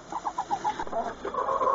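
Chickens in a well-insulated winter coop built from old pallet boards give a run of close, repeated clucks with short rhythmic calls, growing busier and more continuous toward the end.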